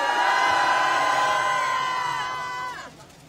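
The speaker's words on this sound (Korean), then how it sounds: "박수로 맞이하십시오." A large outdoor crowd cheering and applauding at a mass political rally in Seoul, a loud sustained roar with a sound-system tone that fades out near the end.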